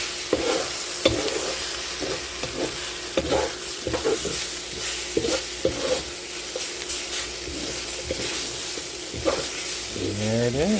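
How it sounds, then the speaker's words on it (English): Bacon Brussels sprout fried rice with apples and radishes is stirred in a hot pan, giving steady scraping strokes over a continuous close sizzle, with no talking. "And we're just going to stir all this together."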